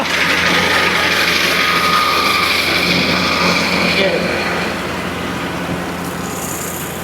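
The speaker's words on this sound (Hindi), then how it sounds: "ये है जी कुछ मशीन जो काम कर रही है" A harvester engine runs steadily in a village field during a harvesting competition, a loud continuous mechanical drone that eases slightly near the end, with people talking over it.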